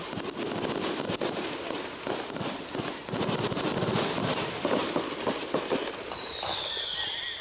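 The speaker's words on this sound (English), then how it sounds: "We're trying to wait till these fireworks calm down here" Fireworks burst over a high school football game, Atlantic at Creston, with dense, continuous crackling and popping volleys that stay loud throughout and carry no talk.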